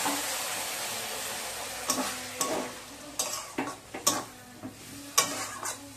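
Water hits a hot pan of vegetarian roll filling and sizzles, with a run of sharp hissing bursts and scraping stirs over a steady low fry, heard close up.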